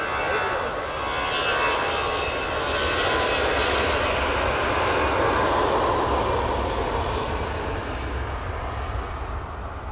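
A broad, steady roar of airliner jet engines fills the air at Manchester Airport, loud and sustained as an aircraft taxis or departs, with the sound swelling slightly and holding throughout.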